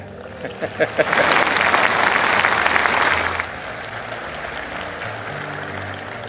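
An audience at Bharat Mandapam bursts into clapping after a few scattered early claps, a dense burst of applause for about two seconds that cuts off abruptly, leaving a low room hum with faint talk.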